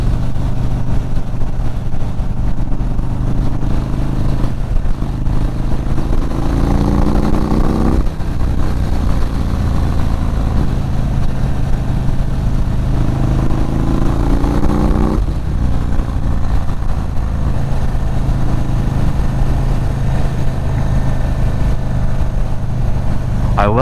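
A stage 2 2022 Indian Chief Dark Horse motorcycle engine during a test ride, a loud continuous rumble that rises and falls through several throttle pulls, with wind noise throughout.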